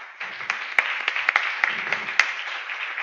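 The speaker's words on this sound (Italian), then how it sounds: "Io chiederei un altro applauso ai presenti" Audience applause at an inaugural conference: a steady patter of many hands clapping, with a few sharper individual claps standing out over about three seconds.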